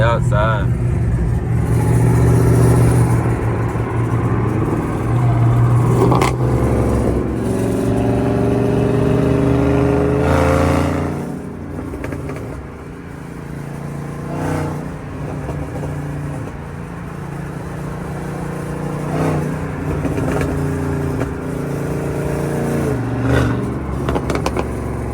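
Dodge Hellcat car engine revving while driving at night, a loud, deep rumbling drone that swells and eases over a long stretch, with people talking over it.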